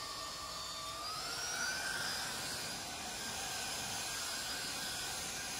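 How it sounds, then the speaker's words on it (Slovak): Parkside Performance 40V cordless turbine leaf blower (PPTLBA 40-LI A1) running steadily on its lowest speed setting, a continuous whooshing turbine whine with a faint rising high tone, close and even throughout. "Toto je jednotka rýchlosť"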